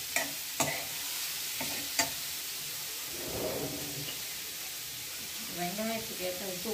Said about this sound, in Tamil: நல்லா ப்ரௌன் கலர் வந்துட்டு வெங்காயத்தை அதில் ரோஸ்ட் பண்ணுங்க